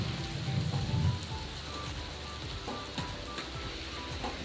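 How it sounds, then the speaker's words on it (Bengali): Green chili and chopped tomato sizzle in a kadai while being stirred, a continuous close crackling hiss like rain with scattered sharper pops, fairly faint and with no talk. "কাঁচা লঙ্কা, টমেটো কুচি দিয়ে আমি আরেকবার একটু কড়ার মধ্যে ওগুলো সব নাড়িয়ে নেব।"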